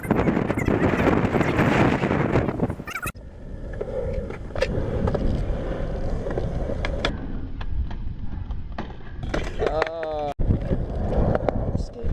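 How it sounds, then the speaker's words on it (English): Gusty outdoor wind buffets the microphone in a constant low roar during bad weather where skaters are out, with people talking over it and a brief break partway through. "This wind sucks so bad."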